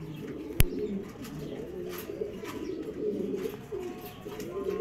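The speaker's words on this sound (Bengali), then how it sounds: "মাশাল্লাহ, এটা একটা মাদি কবুতর।" Pigeons at a pigeon farm coo in low, overlapping rolling calls, with a sharp knock near the start and faint chirps and background noise throughout.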